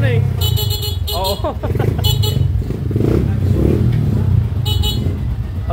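Motorcycle engine running rough and noisy, idling steadily close by while people talk over it and short bursts of clatter come and go.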